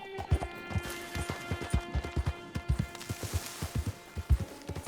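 A horse's hooves clip-clop at a quick, regular gallop in the Red Dead Online video game, loud and close, with faint background ambience and no voices.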